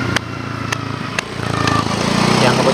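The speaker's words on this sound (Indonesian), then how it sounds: "motor lewat" A motorbike passes outside a clinic building, a steady engine drone that swells louder toward the end, with brief sharp knocks along the way and no talk.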